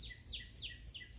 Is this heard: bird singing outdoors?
yes